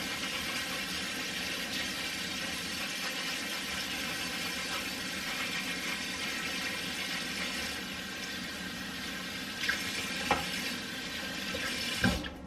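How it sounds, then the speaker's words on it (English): Steady running water flows from a kitchen sink tap for washing hands, a continuous broadband rush with a few small clatters near the end and no talking. "But I got to wash my hands before I can do that."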